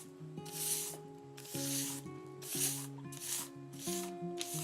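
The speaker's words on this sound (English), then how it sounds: "I'm just going to scrape this into this bowl like that." Tiny seeds are scraped from a shallow dish into a bowl, giving soft, repeated rasping strokes at a steady rhythm of about one per second, close and quiet.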